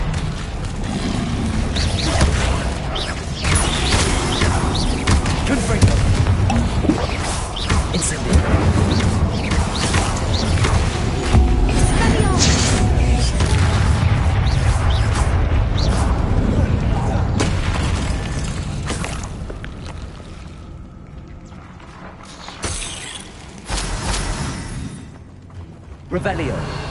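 Blasting curse explosions in a Harry Potter video game, a run of loud booming bursts and crashes layered over busy game effects and spoken dialogue, thinning to quieter scattered blasts near the end.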